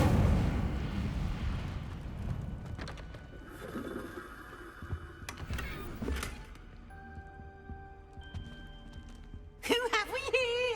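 Incendio fire spell cast in Hogwarts Legacy, a rushing burst and crackle of magical flame with scattered impacts fading out, followed by a sharp tonal flourish near the end; a voice calls out over it.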